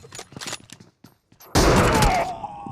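PUBG Mobile gunfire erupts as a loud dense burst of shots for under a second, following a stretch of a voice talking.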